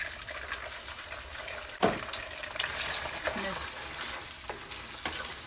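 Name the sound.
eggs frying in a pan for pad see ew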